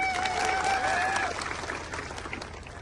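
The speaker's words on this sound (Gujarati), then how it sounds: "બધા માટે એકવાર આપણે જોરદાર તાળીઓ પાડીએ" A crowd at a political rally in Dahod claps loudly and steadily at first, with a whistle-like tone riding over it; the applause then thins and fades, with some voices underneath.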